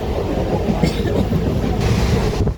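A passenger train runs at Bagnan station with a steady low rumble and faint rhythmic clatter of wheels on rails, heard from on board or very close, continuous throughout.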